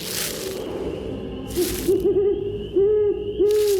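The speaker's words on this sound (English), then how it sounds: "I think the owl is saying, hello." An owl hoots several times, wavering and close, with brief whooshing noises in between.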